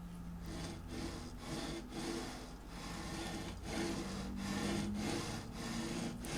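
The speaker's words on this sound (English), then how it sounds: "I colored the top of the frets with Sharpie and skimmed over them with some sandpaper" Guitar frets being sanded with sandpaper, a steady back-and-forth rasping rub in close, even strokes for several seconds.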